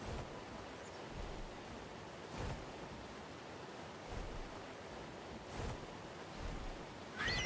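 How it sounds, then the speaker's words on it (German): A waterfall in the ARK video game rushes as a steady, soft broadband hiss with gentle surges, continuous and fairly quiet, with no speech. "Ich bin irgendwo unter irgendeinem Wasserfall."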